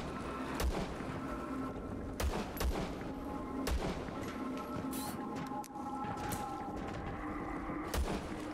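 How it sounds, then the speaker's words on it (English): Pistol shots ring out in the violent first-person game VLADiK BRUTAL as sharp, evenly spaced cracks at roughly one-second intervals, loud against a steady game-ambience bed. "Let's use pistol."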